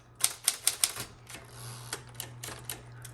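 A 1960s Smith Corona Electra 110 electric typewriter in metallic gray types a quick burst of four sharp, close keystrokes, followed by a few sparser, softer strikes over a steady low motor hum.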